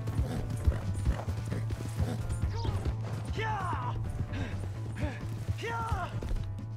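A horse's hooves clip-clop steadily in the video game Red Dead Redemption 2, with creaking tack and a few whinny-like cries over a busy, continuous background.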